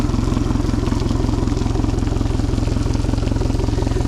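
An outboard motor idling steadily while being flushed and de-salted with a cleaning product, a loud, even, rapid engine putter with no change in pace, close and alone.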